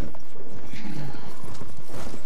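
Horse hooves clip-clop in rapid galloping beats in Battlefield 1, loud and close amid game noise, with a brief whinny-like tone and no clear speech.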